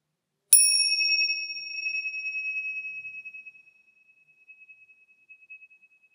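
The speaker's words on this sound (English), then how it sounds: "I would say nothing but chime like this." A single yoga chime is struck once and rings out clearly, its bright metallic tone decaying slowly over several seconds in an otherwise quiet room.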